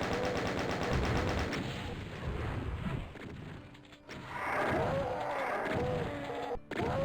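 Gunfire in the Doom mod Eviternity II, map 3 "Annihilate Me": continuous rapid shooting over dense game sound, loud and sustained, with no talk.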